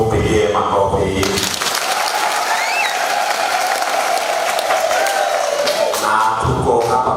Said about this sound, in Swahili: Upigie makofi.